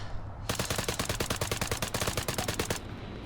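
Rapid bursts of M4A1 rifle fire from Arma 3, a continuous automatic stream of sharp, evenly spaced shots lasting about two seconds, loud and close with no talking.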